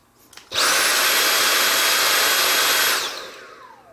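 A Dyson V8 Plus cordless stick vacuum on max mode kicks on abruptly with a loud, piercing whirr, holds it steady for a few seconds, then cuts out and spins down with a descending whine.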